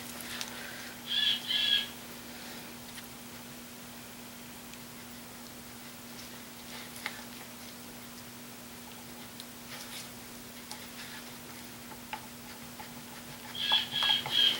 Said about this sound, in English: my bird needs to shut up. It's really loud.